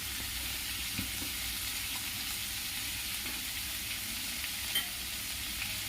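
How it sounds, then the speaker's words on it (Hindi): Cauliflower pieces fry over high gas heat as masala is added, giving a steady, quiet sizzle with a couple of faint stirring knocks and no voices. "गैस को हाई कर दूंगी और अब इसमें मसाला डालूंगी।"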